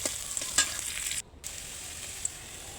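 Dried chillies, garlic and onion fry in oil with a steady close sizzle and crackle, marked by a few sharper pops and a brief dip in the middle.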